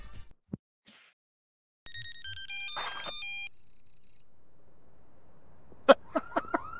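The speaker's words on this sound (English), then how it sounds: "Are you getting a phone call?" A telephone ringing in the Def Jam Vendetta video game, electronic ringtone tones stepping through a short melody midway, followed by a few sharp clicks and blips near the end, fairly faint overall.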